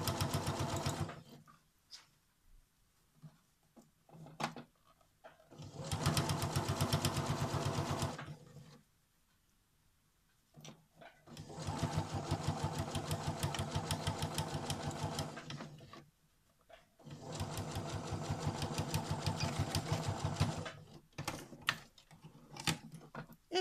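Sewing machine topstitching red fabric, three long runs of rapid, even stitching separated by pauses with faint handling noises in between.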